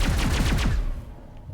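Rapid automatic gunfire from the Mass Effect video game, a loud fast burst of evenly spaced shots lasting under a second before cutting off, with no talking over it.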